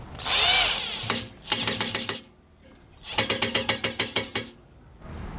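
Two bursts of a power screwdriver driving a screw into a wooden handle, whirring with rapid ratcheting clicks, close by, separated by brief pauses.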